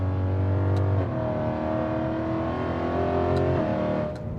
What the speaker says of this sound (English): the downshifts are just insane